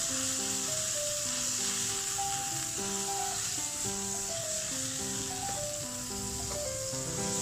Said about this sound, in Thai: กุ้งใส่ลงไป แล้วทำการผัดไปนะครับ ให้กุ้งสุกก่อน